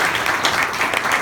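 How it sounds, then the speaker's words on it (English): Audience applause at a live stage show, a dense steady wash of many hands clapping at moderate loudness throughout, with no pauses. "Let's give another round of applause for Tom Roddy."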